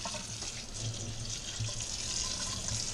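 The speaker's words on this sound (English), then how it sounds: "Take it, give it a quick rinse." A kitchen tap runs steadily as a city ham is rinsed under the water, giving a constant close hiss and splash.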